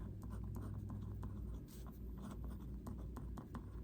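A pen or pencil writes a short note on a paper verse mapping card, with steady scratchy strokes and small pauses against a low background hum, close and quiet, with no talking.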